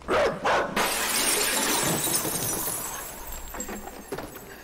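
A dog barks in the video game Inside, with a couple of sharp, loud barks up front followed by a noisy scramble of action sounds that fades, ending with a few fainter yips.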